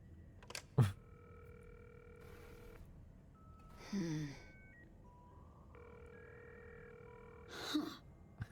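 A phone in Cyberpunk 2077 dials and rings: a few clicks and soft beeps, then steady electronic ring tones that repeat in bursts, faint and clean, with no talk over them.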